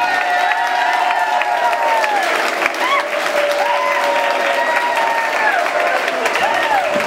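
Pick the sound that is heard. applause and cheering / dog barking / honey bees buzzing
applause and cheering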